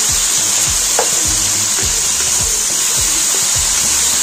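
Onion, tomato, green coriander and capsicum fry in a pan for baingan ka salan, a steady loud sizzle with repeated stirring scrapes in a regular rhythm.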